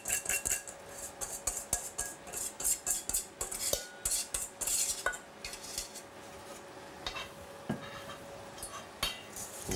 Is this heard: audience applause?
no